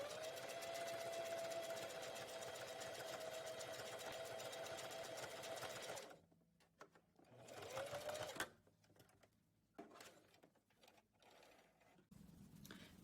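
A sewing machine stitches a length of fabric in a fast, continuous whir for about six seconds, then runs in short stop-start bursts with quiet gaps between them, heard close.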